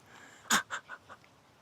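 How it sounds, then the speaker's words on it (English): A dog breathing heavily, heard as a short burst of huffing, wheezy pants that fade out quickly, close by and fairly quiet, with no talking. "She's a heavy breather, Susie."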